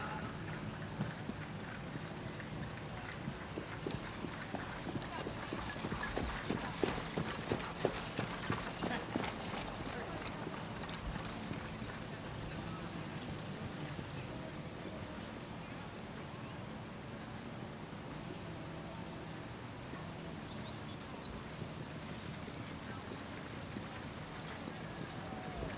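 Draft horses trotting around a show ring at a 4-H county fair, their hooves producing a soft, continuous clip-clop at a distance under a broad crowd and arena murmur.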